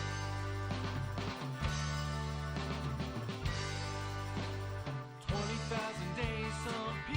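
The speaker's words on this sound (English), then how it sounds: "replaced it with a 12-string electric" A 12-string electric guitar sits in a full, dense song mix with drums and other instruments, playing continuously at a steady level, with no talking.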